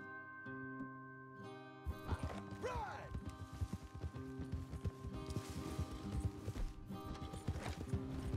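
Horse hooves clip-clop at a steady trot in Red Dead Redemption 2, with a whinny early on, mixed over game music and ambient noise, fairly close and continuous.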